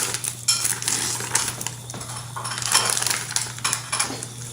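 Knife and utensils cutting into a slow-cooked pork roast in a crock pot give close clinks and scraping taps against the dish, scattered irregularly over a steady low hum.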